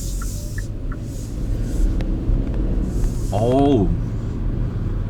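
A Hyundai Casper van with a turbocharged T-GDi engine starts and pulls away, a low steady engine rumble building inside the cabin while a person briefly exclaims.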